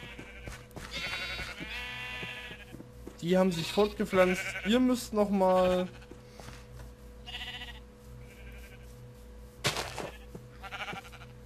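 Minecraft sheep bleating in a short burst of several wavering calls mid-clip, with someone talking before and after over quiet game background.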